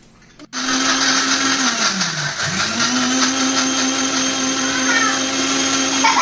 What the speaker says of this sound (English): Now let's close it. And Let's blend it.